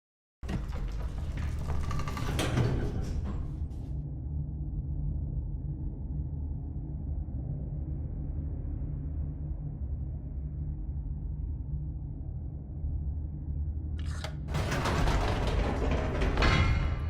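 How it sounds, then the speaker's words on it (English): Elevator doors in The Stanley Parable slide shut with a broad rush, then a low steady mechanical rumble hums through the descent before the doors open again with another bright sliding swell, close and without voices. "Now he's getting back into the elevator and going down again"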